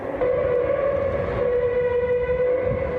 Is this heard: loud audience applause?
no